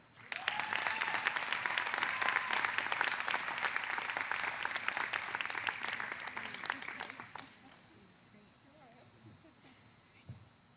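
Audience applause for graduating special education candidates at a college commencement, dense clapping that swells quickly, holds steady for about seven seconds, then cuts off to quiet room tone with a faint thump near the end.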